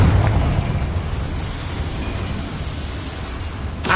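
A Confringo blasting spell explodes in a fantasy video game, a broad rumbling blast with heavy low end that sustains loudly through the moment and ends with a sharp burst.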